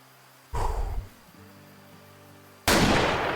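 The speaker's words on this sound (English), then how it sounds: "Oh my god, I think we hard shot it." Two loud rifle gunshots while hunting in Africa, the first a sharp crack that fades quickly, the second a heavier boom ringing out at the end, with quiet outdoor ambience between.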